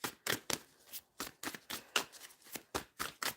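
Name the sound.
shuffling cards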